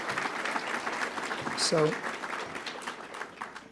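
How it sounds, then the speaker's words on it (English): An audience applauds at a community talk with a former Chicago police superintendent, steady clapping throughout with a person speaking over it. "Can you clap your hands for Garry McCarthy one more time,"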